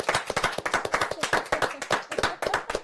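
Rapid hand clapping by one or a few people, close and loud, a steady run of sharp claps filling the moment.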